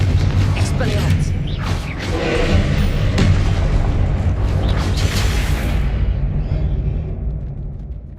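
Repeated blasting-curse explosions in the Hogwarts Legacy video game, loud booming thuds and crashes filling the whole stretch, rumbling continuously before tailing off at the end.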